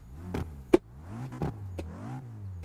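A car engine revs in several short bursts with exhaust crackle, the pitch rising and falling between blips, with one sharp pop, moderately loud and close.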